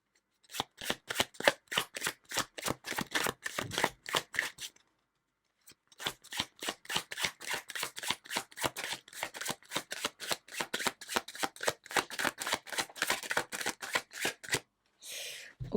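Tarot cards being shuffled up close in rapid, crisp riffling flicks, in two long runs split by a short pause, followed by a brief rustle at the end, with no talk.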